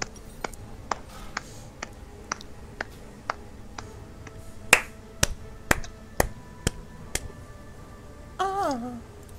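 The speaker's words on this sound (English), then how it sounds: "I'm gonna give you a golf clap" Soft, slow golf-style applause during a League of Legends game session, a series of sharp, evenly spaced light claps at close range, followed by a brief burst of voice at the end.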